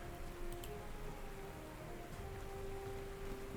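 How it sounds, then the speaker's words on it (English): Steady rain falls in the WWII strategy game Panzer Corps 2 during an Axis 1941 operation, a dense even hiss of drops on a surface throughout, with a faint tonal hum underneath and no talking. "I knew the rain was going to be an issue"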